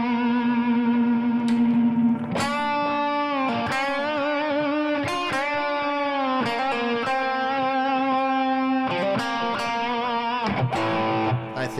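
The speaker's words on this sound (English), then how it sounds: "Nice fat sounding Gibson. This one is Gibson Les Paul Standard." A Gibson Les Paul Standard electric guitar with Anthem pickups plays a run of fat, distorted chords and notes through effects with echo and chorus, loud and sustained, with short breaks between phrases and no talking.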